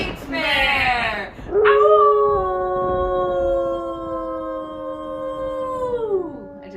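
A person imitates a wolf howl, voicing one long, sustained howl that rises, holds steady for several seconds and then falls away, loud and close.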